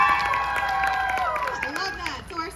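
An audience at a Pitt Day stage performance in June 2022 cheers and claps, a steady wash of crowd noise with whoops and scattered voices.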